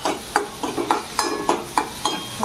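Mustard seeds crackling in hot oil in a pan as the tempering for kadhi is made, with sharp irregular pops and spits over a steady sizzle, close and moderately loud.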